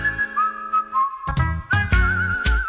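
A professional whistler performs a melodic tune, sustained whistled notes gliding between pitches, close and loud, with instrumental accompaniment entering partway through.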